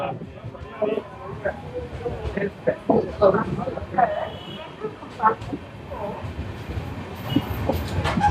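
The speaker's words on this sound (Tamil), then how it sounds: "நம்மளுடைய முதல் ட்ரெயின் ஜேர்னியை ஸ்டார்ட் பண்ணிட்டோம் மக்களே." A passenger train heading from Tiruppur toward Palakkad rolls along with rhythmic clickety-clack wheel knocks and a low rumble, heard from inside a carriage while voices talk nearby.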